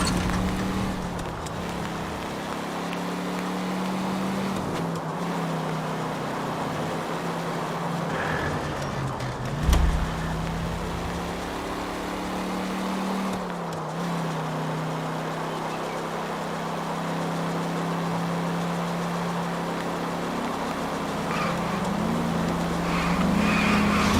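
Steady in-game car engine drone from LA Noire as the vehicle drives along, a continuous low rumble with slight pitch shifts and a brief louder bump midway, no talking.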